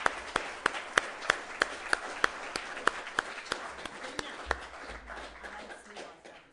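At a writers festival session, clapping follows a Greek song. A few sharp, evenly spaced claps stand out above a softer spread of audience clapping that thins and gives way to room murmur.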